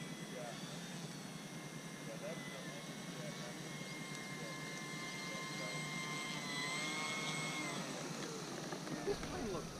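An FMS Bf-109 radio-control model plane flies overhead with a steady, high-pitched engine whine that drifts slightly in pitch, faint and distant, under light outdoor background noise.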